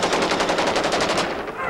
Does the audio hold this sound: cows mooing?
no